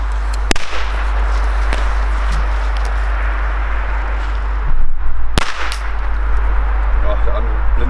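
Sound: old Chinese firecrackers exploding

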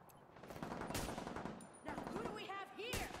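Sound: rifle gunshot in The Division 2, from a video game

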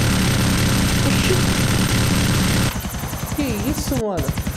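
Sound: helicopter in video game GTA 4 online

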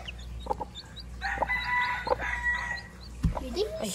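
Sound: chicken chick peeping

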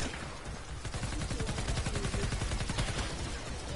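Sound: machine gun fire in a video game

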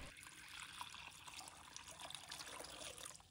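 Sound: pouring clean water into a pot

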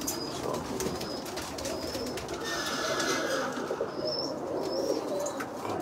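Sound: spinner pigeons cooing in a loft

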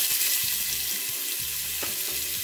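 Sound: onions added to hot oil in pressure cooker

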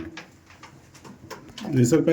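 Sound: pigeons cooing

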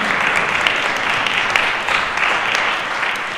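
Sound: audience applause for school performers

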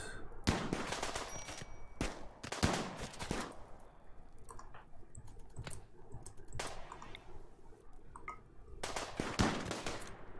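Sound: gunfire from colonists shooting in Rimworld video game

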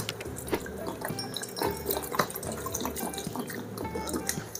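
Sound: water poured into a pot of parwal for soaking

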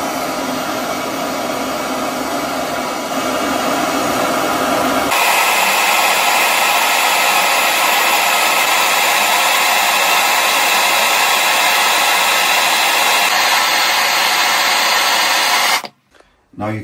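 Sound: wide gas burner flame heating copper pipe to anneal

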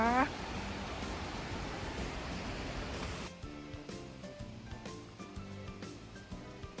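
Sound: Sri Dit waterfall flowing, Khao Kho, Phetchabun

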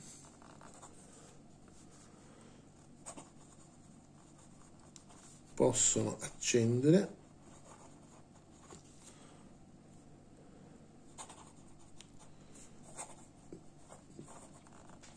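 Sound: writing on paper with TWSBI 580 fountain pen

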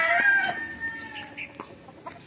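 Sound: rooster crowing

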